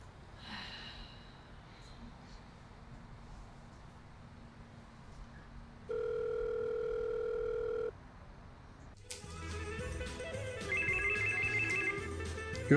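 A telephone rings in a home: a long steady electronic tone sounds first, and then a warbling ringtone keeps repeating above a low room hum, with no voices.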